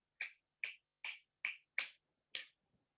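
Six crisp finger snaps ring out one after another at a steady, roughly half-second pace, close and clear against silence, from participants in an online webinar.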